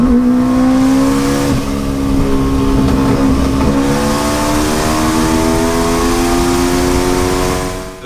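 A car's Subaru EJ engine, built to rev to 12,000 RPM, climbs through the revs with a loud, close, rising whine, drops briefly, then pulls up again and tapers away at the end.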